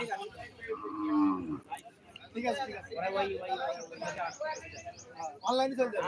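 Cattle mooing at a livestock market in Ratanpur, Kaliganj, Satkhira, Bangladesh, with several loud, drawn-out lowing calls close by under steady talk from people nearby and a few faint bird chirps.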